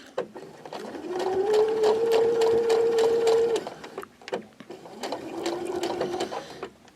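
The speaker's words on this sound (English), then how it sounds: "and I'm going to back stitch. Maybe even go over that twice." A sewing machine back-stitches through fur fabric for a lion costume, running in two close bursts: a steady whirring run of about three seconds, a brief pause, then a shorter second pass.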